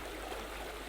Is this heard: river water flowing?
yes